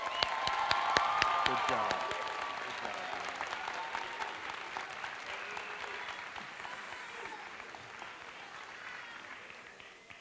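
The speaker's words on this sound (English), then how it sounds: "We do hope that you'll hold your applause until the end." Applause at a graduation ceremony, a crowd clapping in a dense burst that swells early and then slowly fades; a person speaks briefly among the claps.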